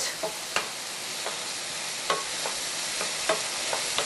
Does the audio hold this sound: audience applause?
no